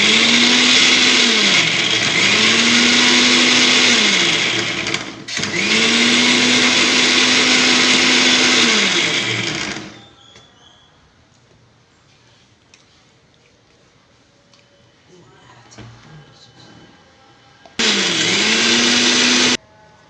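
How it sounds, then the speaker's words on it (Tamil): A mixer grinder grinding onions whirs loudly in two long bursts with a cyclic pulsing pitch, stops for a quiet stretch of faint kitchen sounds, then runs briefly again. "ஒரு கை இப்படி வெங்காயம் போட்டு அரைச்சிக்கேன்"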